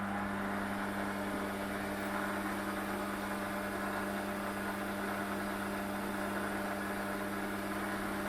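Warco WM 180 metal lathe spinning forward at just over 1,000 RPM with no cut, a steady quiet hum with a constant low tone and even mechanical whir throughout, no voices.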